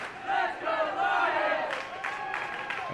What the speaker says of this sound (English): the crowd's getting in it, trying to get behind their teams here